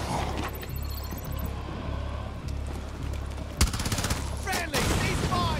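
Gunfire in Rainbow Six Extraction rattles over a steady low rumble, with scattered shots and a sharp loud crack partway through, followed by rapid bursts; voices are faintly present.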